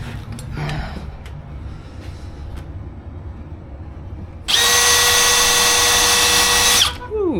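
Power drill driving screws into countersunk holes in shelf wood, a loud steady whir running about two and a half seconds up close, then winding down, after quieter handling and scraping.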